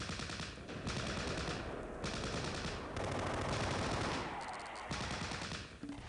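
Close Combat battle gunfire rattles almost without pause, dense machine-gun bursts and rifle shots overlapping in a loud, continuous barrage with brief dips between volleys.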